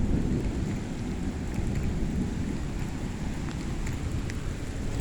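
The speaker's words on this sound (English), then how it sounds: "Oh yeah, I'm gonna get rained on." Steady heavy rain pours during an August thunderstorm in Greenfield, Indiana, with low rolling thunder rumbling underneath, a dense, continuous roar close by with no talking.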